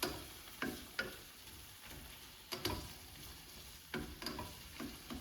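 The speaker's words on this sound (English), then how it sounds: "And I just let it melt there and just stir it in." Butter melts in a hot pan with a soft steady sizzle, punctuated by occasional clicks and scrapes as a utensil stirs it, fairly quiet and close.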